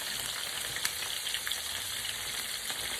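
Shrimp fry in a pan with a steady, quiet sizzle and light crackle that carry on evenly throughout, with scattered small pops and no talking.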